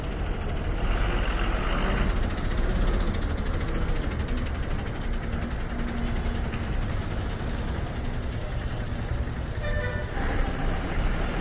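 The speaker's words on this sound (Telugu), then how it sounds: "ఇక్కడ వెళ్తున్న బస్సు భద్రాచలం డిపో," Busy traffic at Hanamkonda bus stand in Telangana as a TSRTC Bhadrachalam-depot Super Luxury bus passes, a steady engine and road rumble filling the scene with a short horn toot near the end.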